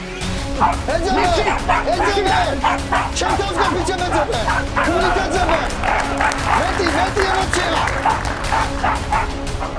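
A dog barks and yips repeatedly in quick bursts, with whimpers mixed in, over a busy background of voices and clatter.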